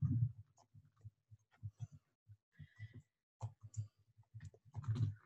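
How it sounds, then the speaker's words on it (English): Typing on a computer keyboard, an uneven run of soft, close clicks and taps with short pauses between bursts, quiet and with no talking. "I'm going to just type this right here"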